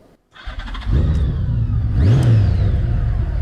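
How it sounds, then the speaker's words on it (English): An IZH Kortezh motorcycle engine starts and then revs up, climbs to a loud sustained roar, with a second rising rev partway through, close and loud with no talking. "You can truly feel the power, might, intensity, and vigor of the engine."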